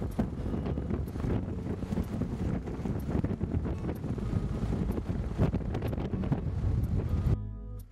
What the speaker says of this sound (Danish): Og det blæser en halv pelikan her.